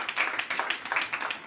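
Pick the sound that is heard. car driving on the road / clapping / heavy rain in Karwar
clapping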